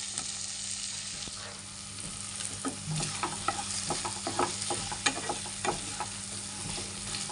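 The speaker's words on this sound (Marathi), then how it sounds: "मॅगीमध्ये टाकलेलं आहे बटर." Butter sizzles and fries in a kadhai while Maggi noodles are being made, with steady crackling, a few sharp pops and stirring scrapes close by, and no talk.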